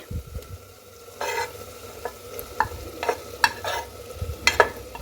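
Butter-fried mushrooms are tipped into masala and stirred, producing quiet sizzling punctuated by sharp, intermittent spoon scrapes and clinks against the pan.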